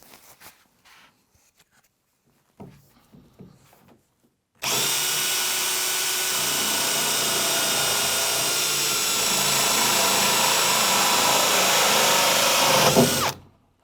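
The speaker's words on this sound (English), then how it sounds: "keeping your drill upright that way and that way" After a few quiet taps, a power drill roars continuously for about nine seconds, loud and close, as it cuts a tap hole in a bath, then stops abruptly.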